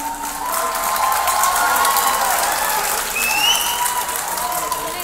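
A festival crowd at an outdoor summer concert applauds and cheers, sustained clapping with shouts rising over it and some voices beneath.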